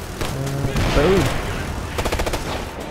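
In the video game Ghost Recon Future Soldier, an enemy turret machine gun lets off rapid bursts of gunfire amid other battle noise. A voice can be heard faintly in the mix.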